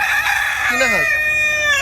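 A chicken on a rooftop poultry farm calls loudly and close by, with a rising, drawn-out crow-like cry over steady clucking from the flock.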